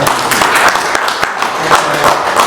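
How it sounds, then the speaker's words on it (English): An audience at a conference talk breaks into applause, dense clapping that runs steadily throughout at a fairly loud level, with no voices over it. "Round of applause."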